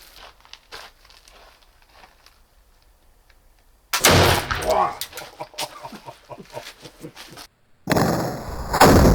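A Howdah flintlock pistol fires a heavy load of about 120 grains of black powder with nearly doubled shot, giving a sudden loud blast and sustained roar after quiet handling noises, then another loud burst near the end.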